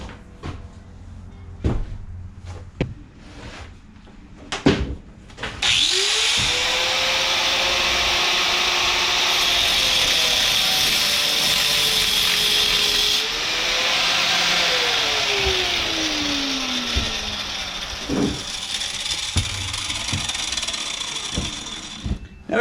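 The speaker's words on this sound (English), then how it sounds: "just take an angle grinder" An angle grinder spins up and grinds steadily through a Kohler Command engine push rod for most of the clip with a high, harsh hiss, preceded by a few sharp knocks and clatters.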